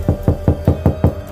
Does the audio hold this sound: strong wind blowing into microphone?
no